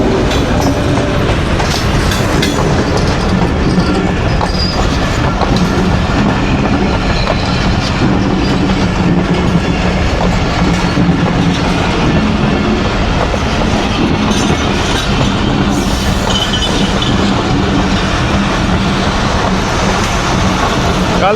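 Pakistani locomotive 6407 leads the Khushhal Khan Khatak Express on rails toward Jahangira station, a loud, steady, close rumble of wheels and clattering carriages with a faint squeal, sustained throughout.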